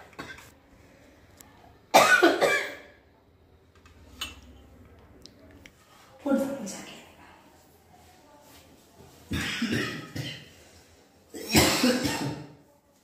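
Coughing in a home: four or five separate bursts of harsh, hacking coughs a couple of seconds apart, close and fairly loud, with quiet pauses between them.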